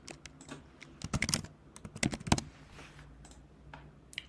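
Fingers type on a computer keyboard in short clustered bursts of crisp clicking key presses, close and fairly loud, with pauses between flurries.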